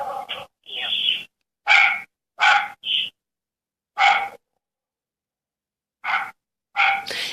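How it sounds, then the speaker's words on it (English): A dog barks in the background of a phone conversation, sounding as a series of short, separate bark-like bursts with gaps of silence between them. "As I can hear the dog in the background"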